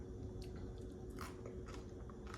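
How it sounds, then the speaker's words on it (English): Crisp bites into homemade crispy sweet potato chips, several sharp crunches and chewing scrapes at close range, quiet against a faint steady hum, with no talking. "that one's crispy and you can hear the crunch"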